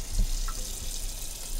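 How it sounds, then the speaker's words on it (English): Water runs from a tap into a cooking pot being filled for baked beans, a steady broadband rush with a brief splash near the start, close and fairly quiet. "Now we're going to fill it up with water again"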